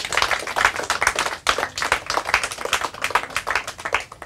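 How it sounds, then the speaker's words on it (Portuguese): Steady applause from a crowd, continuous clapping that carries on throughout without a break, fairly loud and close. "Palmas para eles."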